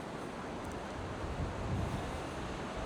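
Ocean waves wash onto a beach in Thailand in rough weather, a faint, steady broadband hiss of surf mixed with wind noise, heard alone without voices.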